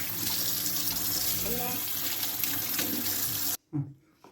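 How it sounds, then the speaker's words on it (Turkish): Lamb's-stomach mushrooms being washed under a running kitchen tap, a steady close splashing stream that stops abruptly near the end, followed by a couple of faint handling sounds. "Suyu çok akıtmadan şöyle hızlı bir şekilde. Bu şekilde içini dışını güzelce yıkıyoruz."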